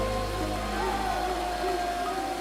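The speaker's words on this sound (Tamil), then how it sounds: "அவங்க நினைச்ச மாதிரியே மழை அந்த ஊர்ல வந்துட்டு இருந்தது." Cartoon-style rain falling in a steady, dense hiss, loud and continuous throughout, with faint tonal sounds drifting underneath.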